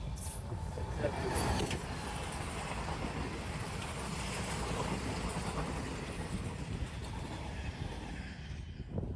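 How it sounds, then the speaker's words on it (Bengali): A DEMU train rolls past at a distance, a low continuous rumble with faint rattling, while a person talks over it. "এই যে ট্রেনটা চলে গেল"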